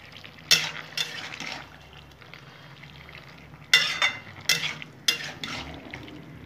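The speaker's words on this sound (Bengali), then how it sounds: "নাড়িয়ে দেবো।" A pan of bottle gourd curry with snakehead fish being stirred: several short scraping, clattering bursts of spoon against metal stand out over a soft simmering hiss, with quiet gaps between them.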